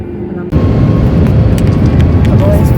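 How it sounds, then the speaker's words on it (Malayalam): An Air India Express airliner's engines swell into a loud, steady broadband roar as the jet takes off, sudden after a quieter start and continuing unbroken. "അപ്പോൾ ഫ്ലൈറ്റ് ടേക്ക് ഓഫ് ആവുകയാണ്"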